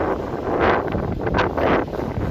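Outdoor wind buffeting a microphone on a riverside in Rouen, rough low rumbling gusts that swell and fade in quick surges, close and fairly loud with no speech.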